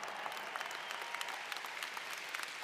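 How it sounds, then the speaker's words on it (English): A ceremony crowd gives a round of applause for a high school drumline, dense steady clapping from many hands filling the space at moderate level, with no talk over it. "Let's give them another big round of applause"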